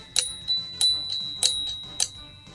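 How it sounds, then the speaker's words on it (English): Small bell on a 1980s Tomy Kongman mechanical Donkey Kong toy rings four times in an even rhythm, each a bright, sharp metallic ding with a short ringing tail, close and clear with no talk. "Test the bell."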